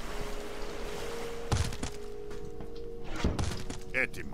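Catapult shots from the Age of Mythology video game strike walls during a siege, producing two heavy thudding impacts roughly two seconds apart over steady game background noise.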